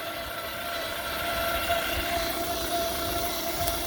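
Twin brushless motors in an SCX6 Clod RC crawler run at full throttle on a 3S battery, giving a steady, loud, continuous high-pitched whine with a constant tonal drone and no pauses.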